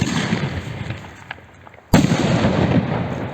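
Cheap fireworks explode outdoors with continuous crackling and bursts, a sharp loud bang near the middle followed by dense fizzing crackle.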